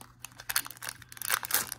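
Scissors cut open the foil wrapper of a Pokémon Evolving Skies card pack, heard up close as quick crinkling snips in short bursts, with no talk.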